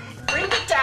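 Metal pot lid set onto a cooking pot of simmering tzimmes, a couple of quick clinks and a brief rattle, close and clear in a kitchen.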